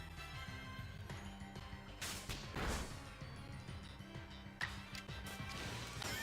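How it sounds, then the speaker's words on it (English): In the Pokémon Legends: Arceus video game, an Aqua Tail attack strikes Flareon as splashing crash bursts over quiet game music, the biggest around the middle and a shorter one later. "Agile style Aqua Tail on Flareon"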